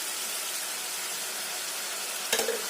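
Chicken pieces with added salt fry in a pan with a steady, soft sizzle and hiss, and a brief clatter of stirring near the end; no voices.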